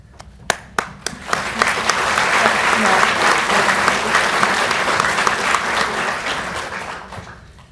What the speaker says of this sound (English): Would you please join me in applauding these exemplary student athletes